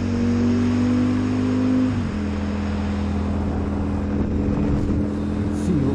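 Ducati Panigale V4 Speciale motorcycle ridden on a road toward Mount Hood, giving a loud, steady engine drone with a pitch shift partway through, under constant wind rush.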